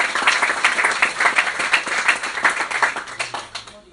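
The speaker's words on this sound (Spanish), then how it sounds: "Un fuerte aplauso a nuestro Dios." A church congregation applauds loudly, many hands clapping in a dense, rhythmic burst that fades slightly at the end.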